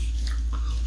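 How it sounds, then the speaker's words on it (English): A crunchy cheese-flavoured snack being bitten and chewed close up, one short crisp crunch over a low hum. "it's still a nice crunchy snack"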